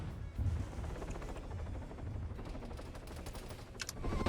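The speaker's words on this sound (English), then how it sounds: "So you're hearing the AA guns firing off." Anti-aircraft guns fire in Arma 3 with a dense, continuous rattle of rapid gunfire and heavier bursts, loud and unbroken for the whole stretch, with no voices.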